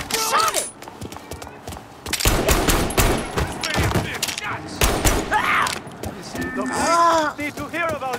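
Gunfire in Mafia: Definitive Edition, a loud burst of rapid shots mid-clip with further sharp bangs, set among street ambience, horse hooves and voices.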